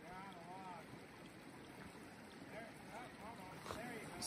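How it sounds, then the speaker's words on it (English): Sur-Ron electric dirt bike splashing through a water crossing, a faint steady wash of water and churning with soft motor whine, heard distantly under wind noise. "Surron water, first water crossing with the Surron"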